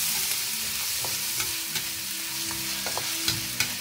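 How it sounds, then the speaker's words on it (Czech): Shrimp and garlic stirred and fried in a pan, with a steady sizzle and repeated scraping and clinking of the utensil against the pan, close up and loud, no talking. "Tak, a necháme chvilku smažit."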